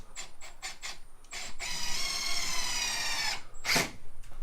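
A power drill drives GRK trim-head screws into timber on a timber-framed gable, with a few short trigger taps and then a sustained, loud whine lasting about two seconds before a final burst.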